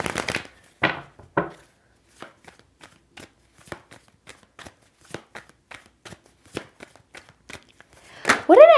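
Tarot cards being shuffled in quick riffling bursts, with soft taps and flicks of the deck between them, close and fairly quiet, ending in a louder riffle.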